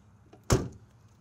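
Lock compartment door on a 1978 Ford LTD shutting with a single solid thud, close and fairly loud, with a short decay, then quiet, with no voices.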